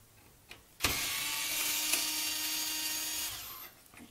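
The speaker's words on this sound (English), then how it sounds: "let's just stop talking and take some screws out" A power screwdriver runs steadily for about three seconds, backing screws out of a dirty Coleco Adam computer, starting abruptly and then winding down; it is loud and close, with no talk over it.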